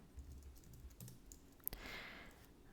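Brief, quiet keyboard clicks as a Linux command is typed on a computer keyboard, a few faint keystrokes over low room noise.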